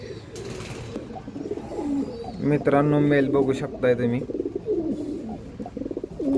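Racing pigeons coo in the background while someone talks steadily over them, with a louder burst of bird calls in the middle.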